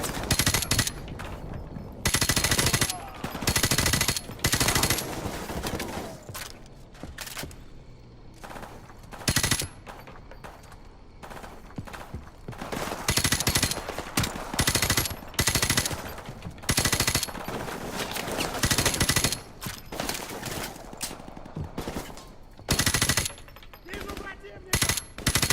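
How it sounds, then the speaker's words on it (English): Sustained gunfire in the Modern Warfare Remastered game mission Safe House, loud and close, with rapid machine-gun bursts and repeated shots nearly continuous throughout, broken only by brief lulls. "That was an effective use of bullets."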